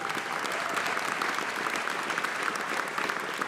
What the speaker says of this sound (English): can we please get a warm round of applause